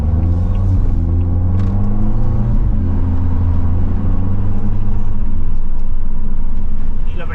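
Engine rumble from a Volvo V60 tuned by Polestar, driven in Sport mode along a winding road, a loud low drone with shifting rev tones heard close from inside the car, with no clear talk over it.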